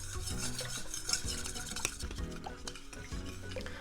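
A warabi mochi starch mixture being stirred continuously as it heats in a pan, with steady scraping and rubbing of the utensil against the pan, faint and close, no talking.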